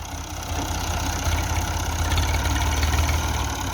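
Massey Ferguson MF 240 tractor diesel engine idling, a steady low throbbing hum with even pulsing that holds at a constant level throughout, nearby and unaccompanied by voices.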